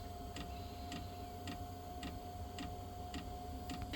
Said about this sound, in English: that noise is actually the sound of the combustion.